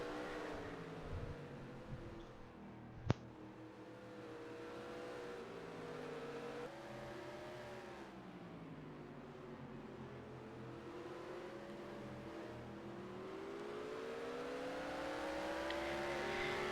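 Race cars lap Indianapolis in the NASCAR Racing 2003 video game, their engines rising and falling in pitch as they pass, fairly faint and steady throughout, with one sharp click near the start.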